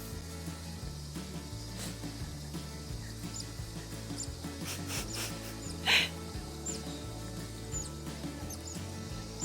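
Otters making high, bird-like squeaks and chirps, faint and scattered over a steady background of rhythmic music, with one sharper squeal standing out midway.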